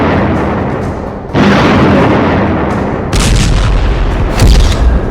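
Cluster bomb blasts from the war between Russia and Ukraine: loud, sustained booming bursts with a sharp jump in intensity partway through and crackling secondary pops. The bursts are close and harsh, with no voices.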